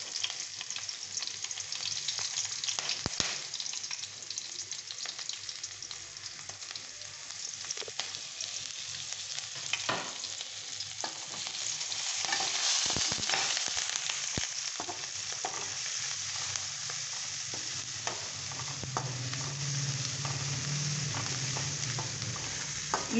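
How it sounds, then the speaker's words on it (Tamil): Ginger, garlic and green chillies sautéing in a pan for chicken Manchurian, a steady close sizzle with occasional stirring scrapes and knocks throughout, no talking. "இஞ்சி, வெள்ளைப்பூடு, பச்சை மிளகாய் நல்லா வதக்கிக்கலாம்."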